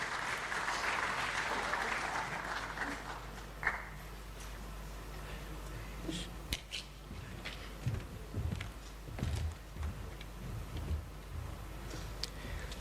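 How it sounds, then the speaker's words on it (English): Applause at a general assembly session rises from a hall, fairly faint and thinning out into scattered claps and small room noises. "Shall we welcome them with a round of applause"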